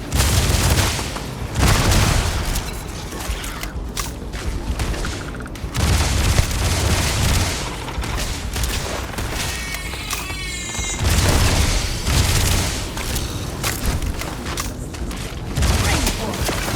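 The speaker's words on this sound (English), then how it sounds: "Okay, this gun might have been a bad idea." Repeated heavy gunfire bursts from a weapon in the space game Starfield, loud booming volleys recurring through the stretch with game effects between them.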